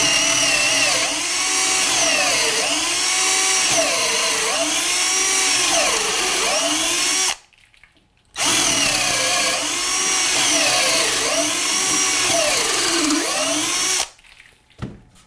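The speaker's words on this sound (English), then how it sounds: "I'm going to drill 2 holes with the RIDGID" A RIDGID cordless drill bores two 3/8 inch holes through stacked 2x4 lumber, each a loud sustained whine of roughly seven seconds with wavering pitch as the bit bites, separated by a brief near-silent pause.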